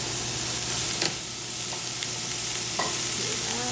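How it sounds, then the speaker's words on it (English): Chopped cilantro and green onions stirred in a hot pan with onion give a loud, constant sizzle, with light scrapes and taps of a utensil along the way. "Give it a little stir."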